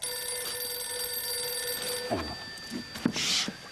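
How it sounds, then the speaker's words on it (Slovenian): A telephone rings steadily for about two seconds in a Slovenian sitcom scene, followed by a few scattered knocks and rustles nearby. "Hej, telefon."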